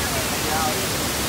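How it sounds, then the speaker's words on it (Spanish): Panaluya waterfalls at Río Hondo, Zacapa, Guatemala give a steady, dense rushing roar of falling water that fills the whole moment without letup. "Cascadas de Panaluya, Río Hondo Zacapa."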